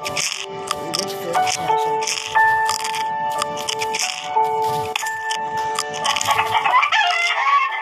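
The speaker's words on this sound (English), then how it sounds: "go away, chicken. Go away." Chickens cluck repeatedly and close by in a busy, irregular run of calls, with occasional longer crowing-like notes mixed in.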